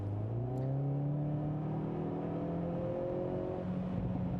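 A 2021 Hyundai Veloster N with dual-clutch transmission, on summer tires in cold weather, revs hard and climbs steadily in pitch as it accelerates from a launch, loud and close, with no talking.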